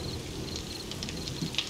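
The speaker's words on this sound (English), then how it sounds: "It's just like raining through right on top of me." Steady rain patters from 7 Days to Die as it leaks through the ceiling of a ruined building. The hiss is constant and moderately loud, with a few brighter drips and taps scattered through it and no talking.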